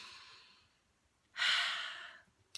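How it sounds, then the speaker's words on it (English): A single deep breath is drawn in softly, then released in a long, clear exhale through the mouth, close and alone, ending with a brief faint click. "Deep breath."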